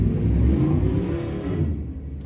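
A car accelerates with a low, rumbling engine on a main street outside, rising and then fading over a couple of seconds at moderate distance.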